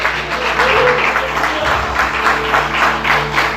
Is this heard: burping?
no